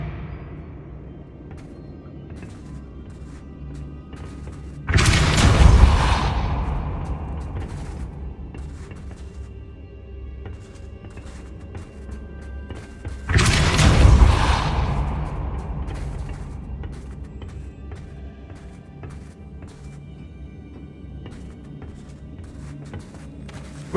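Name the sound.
Depulso spell cast in video game Hogwarts Legacy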